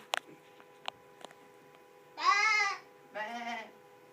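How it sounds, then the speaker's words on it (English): A few light clicks, then two drawn-out bleats, the first louder and longer, the second shorter, close by in a quiet setting. "Shoo, sheep. Time to go to pasture."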